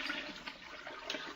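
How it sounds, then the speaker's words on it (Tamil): Water pours into rice for biryani, about five glasses to two of rice, a soft continuous gush and splash close by at low volume, with no talking. "2 கிளாஸ் அரிசிக்கு பார்த்தீங்க அப்படின்னா 5 கிளாஸ் தண்ணி நான் ஊற்றுறேன் நான்."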